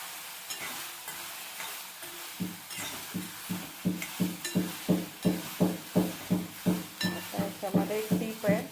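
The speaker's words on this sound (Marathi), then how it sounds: "थोडस तेल टाकलं भाजून घ्यायचं" Cluster beans (guar) roast in a little oil in a pan, with a quiet sizzle that builds into quick, regular stirring scrapes of a spatula against the pan. Close up, with no speech.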